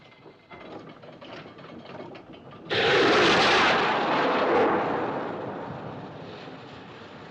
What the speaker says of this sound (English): Looked like a rocket, sir.